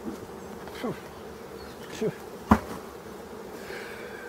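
A steady buzz of bees around an abandoned forest hive hums in the background, with a few louder passes as bees fly close by, near and continuous.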